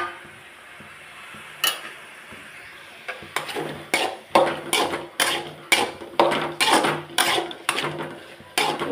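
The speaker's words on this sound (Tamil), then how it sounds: "இப்போ கட் பண்ணி வச்சுருந்த மஷ்ரூமை இதோட போட்டு மிக்ஸ் பண்ணி விட்டுருவோம்" Sliced mushrooms are stirred into a pan with oil and rock salt, a metal spoon clacking and scraping against the pan in a quick irregular run after a quiet start with one early knock.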